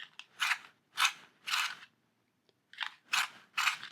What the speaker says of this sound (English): This is my favourite sharpener.